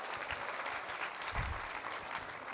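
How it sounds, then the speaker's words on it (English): Applause from the audience for a volunteer at a magic and mentalism show at the Jaipur Literature Festival, a full, steady round of clapping with a brief swell near the middle. "can we have a round of applause for Twinkle as well?"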